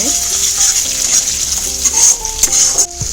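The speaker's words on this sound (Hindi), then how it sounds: "अब इसमें जाएगा हमारे कटे हुए प्याज. Now the split green chilli, और इसे भूनते हैं आराम से." Chopped onions and split green chilies fry in a hot pan, a steady close sizzle running throughout with light stirring and occasional clinks of a utensil against the pan.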